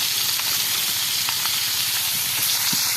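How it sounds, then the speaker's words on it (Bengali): Fresh fish fries on a wood-fired clay stove, making a close, continuous sizzling hiss with faint crackles for a few seconds, and no one speaking. "কঠিন মাছ ভাজতে আছি।"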